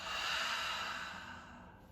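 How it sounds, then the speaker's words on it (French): A single slow, soft exhale through the mouth during a morning yoga breathing exercise, close and breathy, fading gradually over about two seconds with no talking. "Expire par la bouche."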